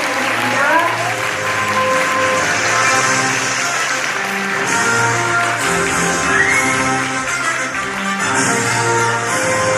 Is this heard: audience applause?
yes